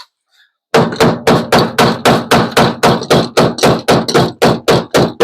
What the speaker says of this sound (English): I beat that with a hammer and it just chipped right away.